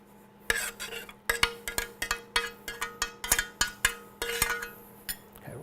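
A utensil knocks and scrapes repeatedly against a bowl while a corn mixture is stirred, about a dozen sharp clinks in an uneven rhythm, close and fairly quiet, with no talking.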